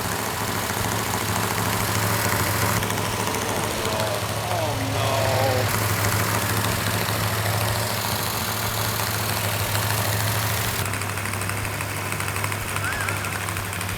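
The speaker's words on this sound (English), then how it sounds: "we have the engine running exactly the way it's supposed to. No leaks, no rattles, no knocks." A freshly rebuilt car engine runs at a steady idle, with a continuous low rumble and an even mechanical hum that persists throughout. People talk faintly over it.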